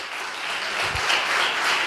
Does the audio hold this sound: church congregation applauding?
yes